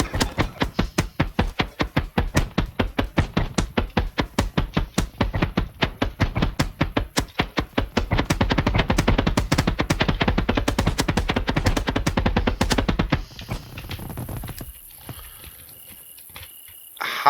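Fireworks set off in the game Fireworks Mania: a long, dense run of rapid popping blasts, like crackling strings, that builds into a continuous roar before ending abruptly into a faint lingering hiss.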